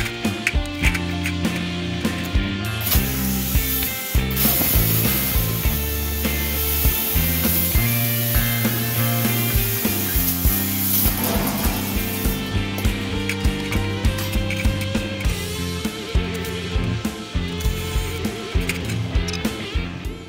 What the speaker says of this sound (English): I will be cutting this out with a jigsaw